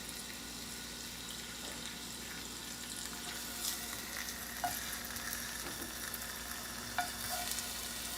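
Food frying in a frying pan that is still heating up, a steady soft sizzle with a few faint clinks and stirring sounds, no talking.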